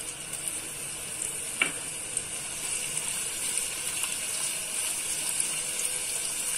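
Two chopped onions frying with cumin in a pan, a steady bright sizzling hiss with a sharp clink near the start and faint stirring ticks, no voices.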